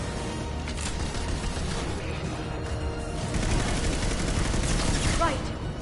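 Firefight in the video game Mass Effect 2: dense, continuous crackle of gunfire forms a loud, unbroken wall of noise with no clear pauses.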